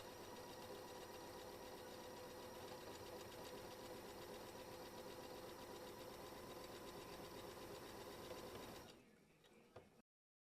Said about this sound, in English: my sewing machine to create buttonholes that are the right size